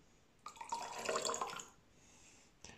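Water is poured into a glass of raki for a one-to-one mix, a short splashing pour lasting about a second, then settling and a faint drip at the end.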